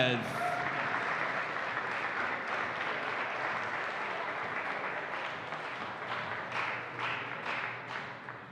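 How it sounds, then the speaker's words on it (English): A table tennis match crowd gives sustained applause as officials are introduced, a dense wash of clapping that runs for several seconds under a voice speaking over the arena. "Coming in first, a big round of applause for June Amon and Bill Engelbrecht."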